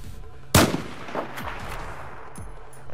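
A single sharp, loud gunshot cracks out in Battlefield 4 and echoes away, followed by fainter, distant shots in the background.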